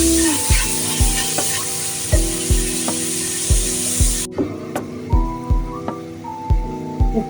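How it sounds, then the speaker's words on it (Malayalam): Tomatoes frying for a Kerala-style curry hiss in a hot pan, a steady sizzle broken by repeated knocks of a spoon stirring against the metal, close and fairly loud with no talk. "നമ്മൾ തക്കാളി ഇടുകയാണ്. തക്കാളി ഇട്ട് വാട്ടി ഒത്തിരി വാടണ്ട"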